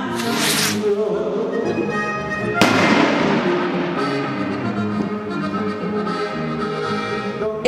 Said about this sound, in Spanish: Con una cruz adornada con flores, listones, unos cuantos cohetes y hasta comida, trabajadores de la construcción celebran su día.